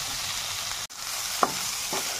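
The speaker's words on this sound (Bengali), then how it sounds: "এর মধ্যে লবণ আর হলুদ গুলো দিয়ে দিচ্ছি, ভালো করে ভেজে নেবো।" Cauliflower and potatoes frying in a pan with salt and turmeric, a close, even sizzle broken by a brief dropout and a couple of sharp stirring clinks.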